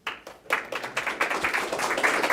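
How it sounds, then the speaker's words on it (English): A meetup audience breaks into applause after a few scattered early claps, building into a steady round of hand clapping that stays fairly close and continuous. "So please, round of applause."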